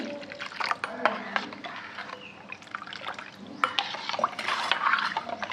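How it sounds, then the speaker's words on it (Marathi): Water is added to buttermilk mattha seasoned with sugar, salt and black salt, then stirred, making close liquid splashing, trickling and spoon clinks in irregular bursts; no voice is heard. "म्हणून अजून थोडंसं पाणी घालते।"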